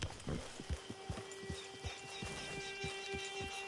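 Horse hooves clop at a steady walking pace on a trail in the video game Red Dead Redemption 2, each beat distinct and near, over a faint constant hum with no voices.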